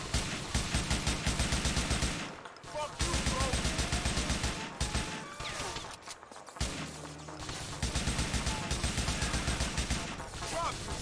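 Bursts of AK rifle fire in GTA IV, rapid sustained automatic volleys separated by short pauses, loud and close, with scattered impacts between them.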